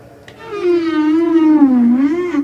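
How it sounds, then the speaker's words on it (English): Unprocessed sample of whale vocalizations: a single long, wavering tonal call with rich harmonics that bends slowly in pitch and swells up after a faint start, sounding alone with no talk. "what we ended up going with was whale vocalizations"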